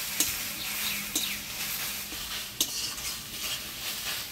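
Jute leaves and other greens fry and sizzle in oil tempered with dried red chilli and radhuni, a steady close hiss with a few sharp clinks of a spatula stirring the pan, no talking.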